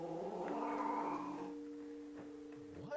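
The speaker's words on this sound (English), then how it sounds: "The cat, Loli, aggressively hisses and snarls at something that Rosanna can't see." A cat gives a long, drawn-out yowling snarl that fades into a lower growl, close and fairly loud with no talking over it.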